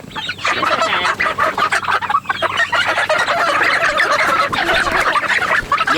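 A flock of Bielefelder chickens, hens and a rooster, clucking busily and continuously up close, with overlapping calls and squawks.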